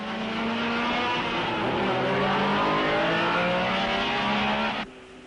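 Jo Bonnier's 1961 Porsche Formula One car racing at the Belgian Grand Prix, its engine loud and close in a sustained high-revving howl that shifts pitch through the gears before dropping away abruptly at the end.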